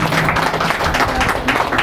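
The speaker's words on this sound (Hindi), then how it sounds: "जोर से ताली बजाओ एक बार।" A church congregation at a Sunday healing meeting claps loudly together, a dense sustained burst of many hands that fills the whole moment.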